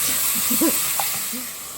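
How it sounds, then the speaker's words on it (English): Vegetables sauté in hot oil for pasta e fagioli, giving a steady, close hiss of sizzling that fades slightly toward the end. "you let it cook for just a little bit, and you just saute it"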